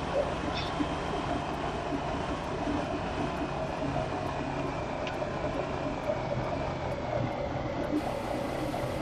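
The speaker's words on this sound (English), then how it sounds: "you can see the train" A train in the Farming Simulator 2015 video game rumbles steadily throughout, a continuous mechanical drone with faint rail clatter and no pauses, heard alone without talk.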